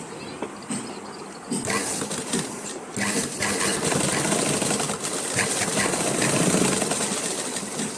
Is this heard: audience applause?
no